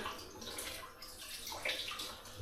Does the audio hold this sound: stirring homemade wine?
yes